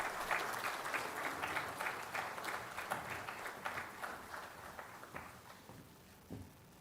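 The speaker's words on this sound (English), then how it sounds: "Please join me in extending a warm welcome to him with a lively round of applause" Convocation audience at an engineering institute applauding in a large hall, a dense, steady round of clapping from many hands that carries on for several seconds before thinning toward the end.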